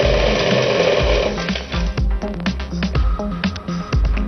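A blender or mixer grinds ingredients into a paste, loud whirring with a motor tone that stops and restarts in short rattling bursts, close and unaccompanied by talk.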